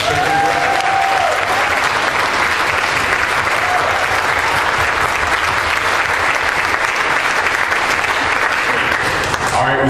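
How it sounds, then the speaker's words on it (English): A church congregation at an Easter celebration claps hands in sustained, dense applause, loud and even throughout, with voices mingled in the crowd noise. "Let's give her a hand clap and the team."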